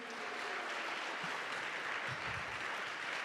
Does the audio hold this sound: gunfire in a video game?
no